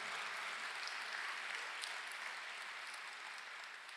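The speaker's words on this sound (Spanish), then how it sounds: "Dale fuerte ese aplauso al Padre Celestial." Steady, dense applause from a large church congregation fills the whole stretch, loud and sustained, fading slightly at the end.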